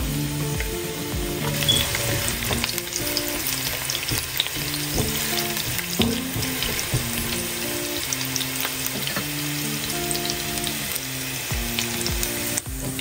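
Onion frying in ghee for hilsa polao, a loud continuous sizzle broken by repeated stirring scrapes against the pot, close and without voices.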